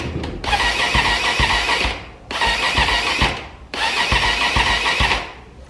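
A Megelli 250r motorcycle is cranked cold while left in gear, giving three loud grinding bursts of a few seconds each with short pauses between, each attempt failing to catch.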